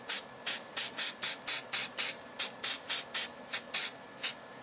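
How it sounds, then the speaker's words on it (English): Gray spray paint hisses onto a painting to create a cloud effect, in a quick, steady series of about fourteen short, even puffs close to the microphone. "we're just going to spray it on, just like so. It's going to make it the effect of a cloud."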